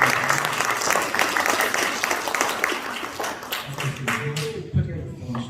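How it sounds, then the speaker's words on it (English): Applause at an elementary school winter concert: a crowd of parents and children clapping briskly, then thinning into scattered claps as a voice begins speaking near the end. "We get a round of applause."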